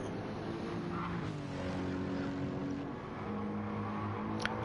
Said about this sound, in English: I do like that V8. It does sound really nice.